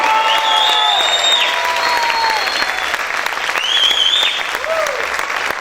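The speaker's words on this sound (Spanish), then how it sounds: "¿Cuántos pueden aplaudir fuerte al Rey?" Loud, continuous clapping fills a church as the congregation applauds, with shouted and sung voices rising and falling above the dense patter.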